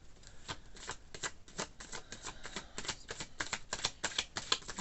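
Tarot cards being shuffled by hand, a quick run of crisp riffling and flicking pulses that carries on steadily and close up, with no speech.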